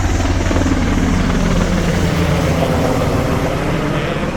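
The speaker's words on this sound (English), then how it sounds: "You hear a lot of military helicopters passing by." Military helicopters pass by over Washington, DC, their heavy rotor thump and engine drone loud and continuous at close to moderate range, with no talk over them.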